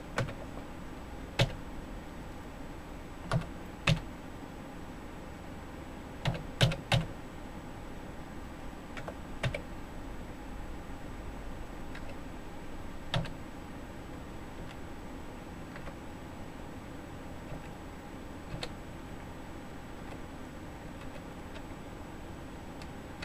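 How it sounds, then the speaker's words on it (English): Sparse keystrokes on a computer keyboard entering a Windows 8.1 product key, separate clicks and short bursts over quiet room noise, with no talking. "you will get to see me type it in a blurred setup"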